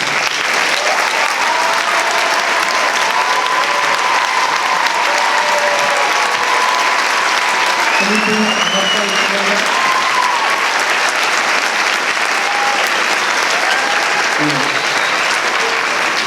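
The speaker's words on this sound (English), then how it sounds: "please stand up right now and get a big applause for them" Sustained applause from an audience at a high school marching band and color guard awards presentation, honoring volunteers; steady dense clapping throughout with a few voices and whoops rising above it.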